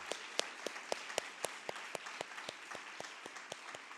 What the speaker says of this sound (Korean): 함께 축복과 축하의 박수 올려드리겠습니다.